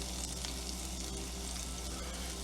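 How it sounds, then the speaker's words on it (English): Shallots sizzle gently in warm oil for a mushroom red wine reduction, a steady soft hiss with no other sounds. "let's add our shallots"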